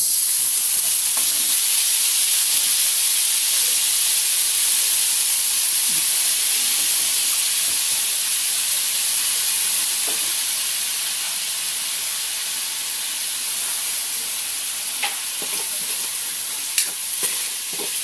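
Kangkong frying in a pan with corned beef and leftover rice gives a loud, steady, close sizzle that continues throughout, with faint stirring clinks and no voices.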